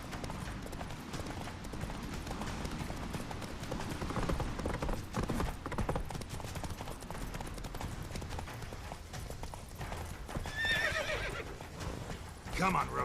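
Horse galloping in The Witcher 3 on PS4, with rhythmic clip-clop hoofbeats and a neigh running under a voice and game dialogue, alongside faint mechanical clatter.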